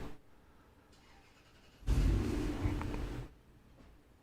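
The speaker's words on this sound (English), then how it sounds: "if you hear cars and stuff starting up" A car engine turns over and roars briefly outside, a short burst of rumbling between quiet background hum, somewhat distant.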